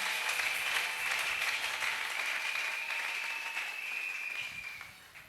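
Church congregation applauding after a call to praise the Lord, a steady wash of clapping holding evenly for several seconds before easing off at the end, with no voices standing out.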